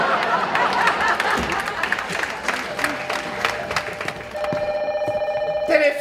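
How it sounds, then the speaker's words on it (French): A telephone rings with steady repeated electronic trills near the end, after a noisy stretch of crowd sound and applause in a radio comedy sketch. "Tu n'entends pas le téléphone?"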